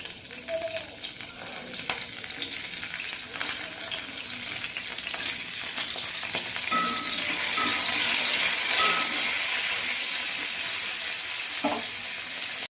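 Cauliflower florets sizzle in hot oil in a wok, a steady broadband frying hiss that swells slightly midway, with a few clinks and stirring scrapes scattered through.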